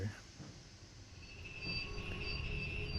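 A Stadler FLIRT electric multiple unit pulls away on the Lucerne–Sursee line in Train Sim World 2, with a steady low rumble of running gear. Tonal motor whines rise and grow louder as it gathers speed, and no one speaks.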